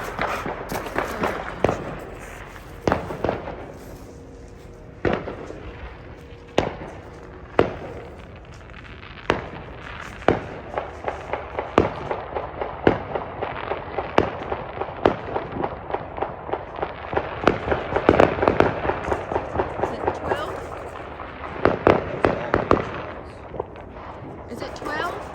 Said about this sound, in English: You hear how many people right over there are shooting?